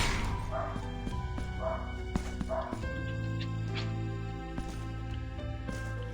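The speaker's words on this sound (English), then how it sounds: "And the dog doesn't like the spider people either." A dog barks and yips in the video game Blasphemous II, with several short bursts over the first few seconds, set against steady sustained game music that continues after the barking stops.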